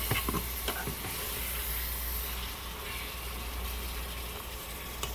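Garlic for curry goat sizzles in a hot pan, a steady close hiss of frying with a couple of brief crackles at the start and no talking.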